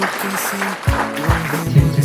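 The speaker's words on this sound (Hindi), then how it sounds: "हम एक बार ताली बजाएं" A church congregation at a Christian wedding claps together, a loose patter of hands mixed with low background voices and murmuring.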